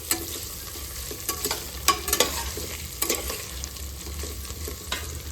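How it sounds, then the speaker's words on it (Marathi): Beans are stirred into sautéed onions in a pan for a masala pulao, giving a steady soft sizzle with close, irregular scrapes and clacks of a spoon and no talking. "कांदा चांगला परतून झाल्यावर आपल्याला बीन्स टाकायचे आणि हलवून घ्यायचे व्यवस्थित."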